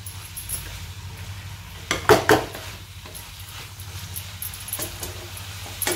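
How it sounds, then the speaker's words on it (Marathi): A lid set down onto a pan of chickpea usal on the stove, one brief clattering metal clink over a low, steady sizzle, close and without speech. "हे आपण आता झाकण ठेवत आहोत."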